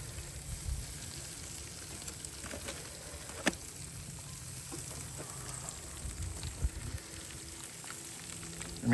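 A steak sears on a hot Weber 26-inch kettle grill at around 500 degrees, giving a steady close sizzle with scattered sharp pops and crackles throughout.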